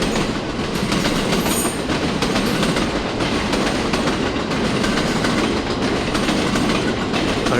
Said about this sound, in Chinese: 这是环球影城的那个风格的，就是主题的列车